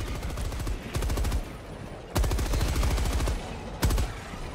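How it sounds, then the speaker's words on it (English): Machine gun in Helldivers 2 firing at its raised 900 RPM rate, three loud sustained bursts of rapid shots with brief pauses between them, up close and without talk. "for increasing the RPM on the machine gun, you're gonna hold down R and then right click, and then it goes from 760 to 900 RPM"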